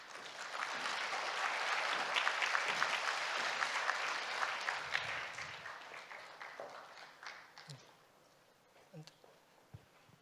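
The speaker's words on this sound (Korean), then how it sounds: "다시 한번 박수 부탁드리겠습니다" A crowd applauds at a contract-signing ceremony for the Yeouido Daegyo apartment visioning study. The sustained clapping swells, then thins into scattered claps, with some talk underneath.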